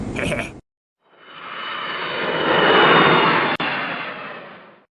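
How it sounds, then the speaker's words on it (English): An airplane landing in the Mr. and Mrs. Potato Head vacation PC game: a jet engine roar swells up from silence, peaks loudly, is cut by a brief click, then fades away. "The plane Mr. Potato Head and Mrs. Potato Head are on has landed in the United Kingdom."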